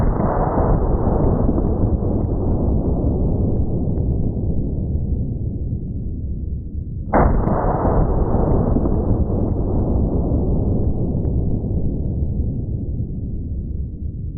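Two heavy WW2 Boys .55 anti-tank rifle shots slam into cinder blocks about seven seconds apart, each a loud sharp blast followed by a long rumbling decay that fills the gap, with no talking.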